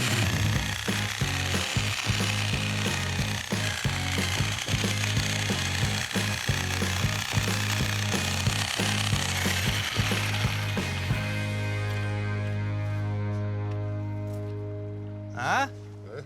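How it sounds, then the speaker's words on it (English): A Sawzall reciprocating saw cuts into a tree stump at a lakeside dock build, a loud, steady buzzing chatter running for about eleven seconds before winding down, with people talking over it. "If you can grab a Sawzall, we'll make it more flat"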